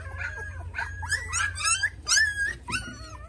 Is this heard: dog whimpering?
yes